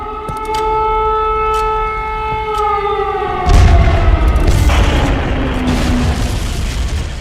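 An air-raid siren wails in Sumy, Ukraine, its rising and falling tone loud and sustained, then a heavy boom of bombing and shelling hits midway and leaves a rumbling roar beneath the fading siren.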